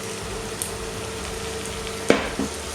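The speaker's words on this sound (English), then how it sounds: "and we're going to get this nicely browned off" Marinated beef browning with softened onions in a pan for a Moroccan stew, a steady low sizzle with a couple of brief stirring knocks near the end.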